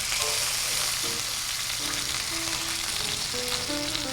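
Teriyaki steak sizzles on a hot hibachi griddle, a close, steady hiss and crackle of frying, with a few faint metallic scrapes and taps from a spatula and no talking.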